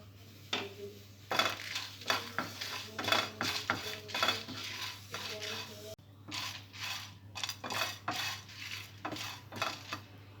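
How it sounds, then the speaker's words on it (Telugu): Lentils, dried red chillies and curry leaves are dry roasted and stirred in a pan, with a steady run of close metallic scrapes and clinks from the spoon over a faint background hum. "పప్పులు కొద్దిగా రోస్ట్ అయిన తర్వాత ఇందులో ఎండుమిర్చి, కరివేపాకు వేసి డ్రై రోస్ట్ చేసుకోవాలి"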